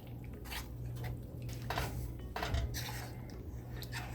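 Faint scraping and soft clinks of a spoon stirring melting chocolate with cocoa in a pot over low heat for spicy hot chocolate, quiet and close with no talking.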